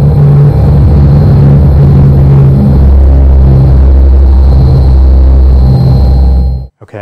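A B-17 bomber passes close by with its engines near full power, a loud, steady, rumbling roar that holds for several seconds and then cuts off abruptly.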